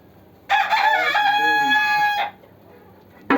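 A hen settling to lay eggs lets out one loud, drawn-out call lasting nearly two seconds, followed by quiet and a brief sharp sound at the end.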